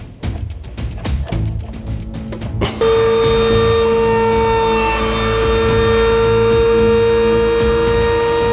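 A power tool mills solid-wood bed struts. A few sharp knocks and handling noises come first, then a loud steady high whine of the cutter with extraction running, sustained to the end.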